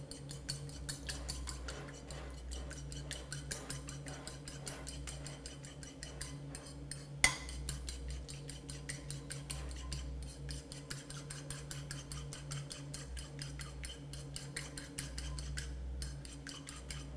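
A utensil whisks an egg wash in a bowl, a steady fast scraping and clinking rhythm that runs continuously for well over a quarter minute, fairly close, with one sharper knock partway through.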